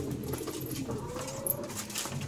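Pigeons and young squabs in a loft cooing softly, low murmuring calls repeating over a faint background hum, with no talking.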